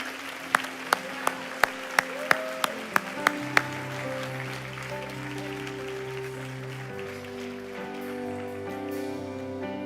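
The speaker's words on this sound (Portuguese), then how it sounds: "Os abençoados podem dar um aplauso ao nome do Senhor." A church congregation claps about nine separate, evenly spaced claps, close and sharp. Sustained, steady music tones enter and carry on alone after the clapping stops.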